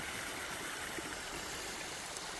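Water gurgles steadily through the Jenks Lake flume, a continuous broadband rush and trickle with no pauses, moderately close and even in level throughout, alone without any voices.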